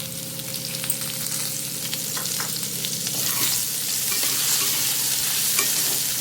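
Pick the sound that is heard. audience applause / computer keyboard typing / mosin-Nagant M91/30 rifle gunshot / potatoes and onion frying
potatoes and onion frying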